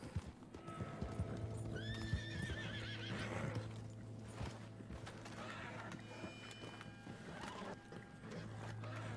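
Steady clip-clop of horse hooves while riding in Red Dead Redemption 2, with a whinny partway through and a constant low hum under the galloping rhythm.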